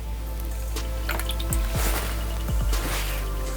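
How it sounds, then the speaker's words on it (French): Soapy water poured onto baking soda gives a few soft drips and a brief wet trickle. Faint, quiet splashes sit over a steady low hum, with no talking. "voyons ce qui se passe lorsqu'on ajoute de l'eau savonneuse simplement à du bicarbonate"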